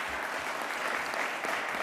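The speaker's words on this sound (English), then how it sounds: "Let's give them a big round of applause." A crowd applauds after a bill signing by the New York governor in Buffalo, with dense, steady clapping that fills the room for the whole moment.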